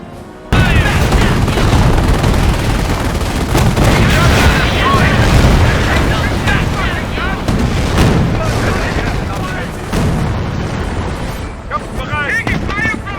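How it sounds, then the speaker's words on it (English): Enemy infantry gunfire in the WWII strategy game Company of Heroes, a loud sustained din of rifle and machine-gun bursts mixed with booms and shouted voices. "Taking fire from enemy infantry!"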